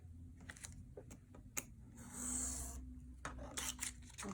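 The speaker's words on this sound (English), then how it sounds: "So here's my knife, and we're gonna cut this off" A craft knife slicing through a paper page of an altered book, short scratchy rasping strokes and a longer drawn cut, close and quiet with small taps between.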